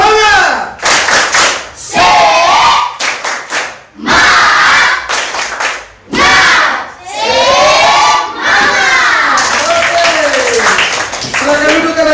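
Schoolchildren in a classroom shout a rhythmic clapping chant in unison, loud bursts of voices alternating with sharp claps and short pauses.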